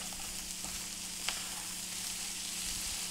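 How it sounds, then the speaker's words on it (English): Plantain sizzles and crackles in hot oil, a soft continuous frying hiss with a faint low hum underneath and no talking. "you cannot turn your back on plantain when you're frying them"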